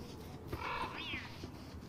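A cat in the video game Don't Starve Together gives a brief, soft meow, rising then falling, heard faintly over quiet game background sound.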